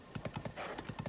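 A horse's hooves clip-clop in Zelda: Tears of the Kingdom, a steady, even trot of sharp, close hoofbeats, with a brief whinny-like sound near the end.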